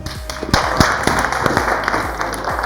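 Café audience clapping for a model at a fashion show, a moderately loud patter of many hands with sharp individual claps standing out, mostly alone with little talk.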